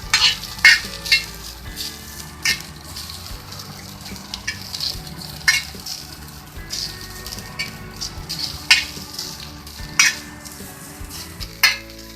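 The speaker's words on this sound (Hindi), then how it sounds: "ये देखिए हमने कितनी सारी भिंडी डाली थी और हम इसको मुसलसल फ्राई कर रहे हैं।" A large batch of okra fries in oil, a steady close sizzle broken by repeated sharp clinks and scrapes of a utensil stirring the pan.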